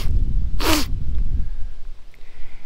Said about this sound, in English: I'm going to try to edit out all the sneezing and sniffing and coughing